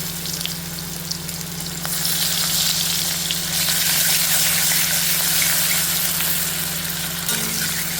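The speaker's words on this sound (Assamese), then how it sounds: "প্ৰথমতে মই পিঁয়াজ দিলোঁ তেলত" Onions go into hot oil just used for frying fish, with a steady close sizzle and frying hiss that grows louder after a couple of seconds and keeps up evenly throughout.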